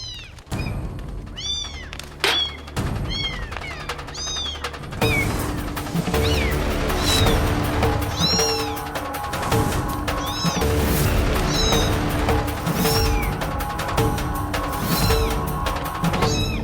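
Kittens trapped inside a clay pot give repeated high, urgent meows in quick succession, loud and close, over clattering knocks and a busy background.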